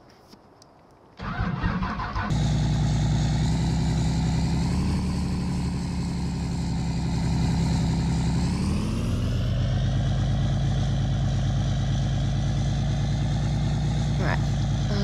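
Ford truck engine in Farming Simulator 19 cranks and starts after a quiet moment, then settles into a steady, loud idle with a brief rise in revs midway before dropping back to a constant rumble.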